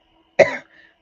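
One short, close cough bursts out sharply and fades quickly, followed by a faint trailing breath in an otherwise quiet room.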